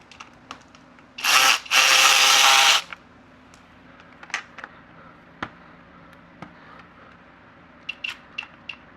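A power tool running two loud close bursts while bolts are backed out ahead of a skid plate install, followed by scattered clicks and metallic taps.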